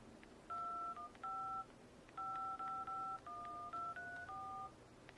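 Phone dialer keypad touch tones beep in a series of short, evenly pitched presses, some clustered quickly and others separated by brief gaps, heard clearly and alone at a modest level.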